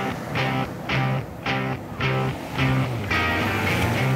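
Waves at Pasir Putih beach in East Java, with near, loud surf breaking and washing in repeated surges about every half second.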